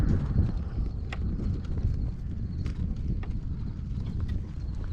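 A horse walks on at a steady pace, its hooves clip-clopping in an even rhythm close by, with light wind buffeting the microphone in the background.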